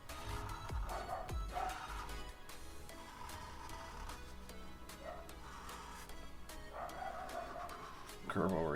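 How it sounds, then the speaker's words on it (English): A dog barks a few times in the background, mixed with talking and some steady room noise. "my dog is barking."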